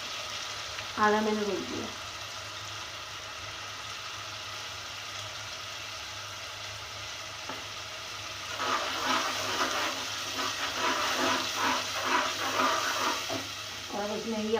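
Yogurt hits sizzling ginger-garlic paste in a pan while Delhi-style biryani is cooked. A loud, crackling fry surges in midway and keeps bubbling. A brief voice speaks early, over a low steady hum.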